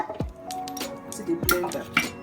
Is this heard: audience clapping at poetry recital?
no